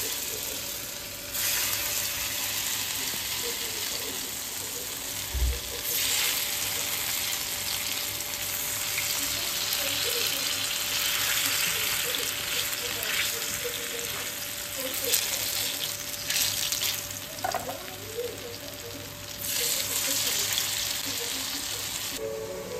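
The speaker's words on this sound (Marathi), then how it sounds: "आता हे तेलामध्ये म्हणजे तव्यावर फ्राय करते" Vadas fry in oil on a griddle with a steady, loud sizzle lasting throughout, punctuated by occasional clinks and stirring sounds in a home kitchen, with a constant faint hum in the background.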